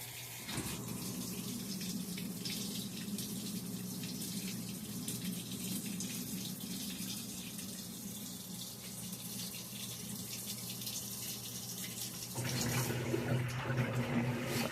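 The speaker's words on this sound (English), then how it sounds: "It's still in wash, it's just adding more water." A faulty Whirlpool washing machine takes in water mid wash cycle, a steady rushing hiss of filling that grows fuller and louder toward the end.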